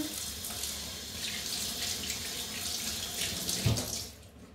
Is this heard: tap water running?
yes